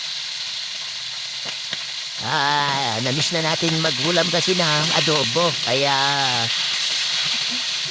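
Steady, close sizzling of pork being lightly pan-fried for pork adobo with string beans, a continuous bright hiss that carries on underneath someone speaking.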